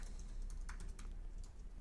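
Keys on a new computer keyboard are tapped in a short, uneven run of soft clicks, fairly quiet against a steady low background hum.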